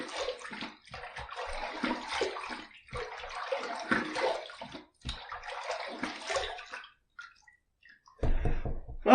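Water splashes in repeated bursts as a face is rinsed at a sink after a shave, close and fairly loud, with short pauses between handfuls and a final rush of water.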